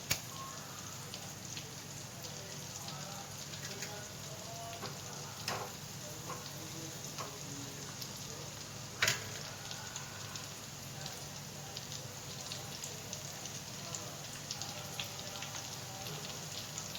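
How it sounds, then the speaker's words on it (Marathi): Corn kernels frying in hot oil give a steady, fine sizzle throughout, with scattered pops and crackles and a few sharper spits, close and moderately quiet. "राहिलेले कॉर्न आहे ते आपण तळून घेणार आहोत."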